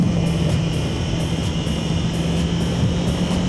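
Sport motorcycle carrying a rider and passenger, a loud, steady engine drone with strong wind rush, continuous and close throughout.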